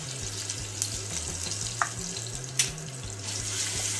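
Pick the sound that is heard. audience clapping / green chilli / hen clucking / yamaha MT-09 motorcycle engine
green chilli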